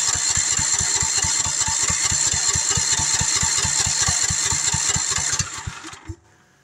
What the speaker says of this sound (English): Now I've got it just on crank cycle. That's it. Just cranking. There's no start.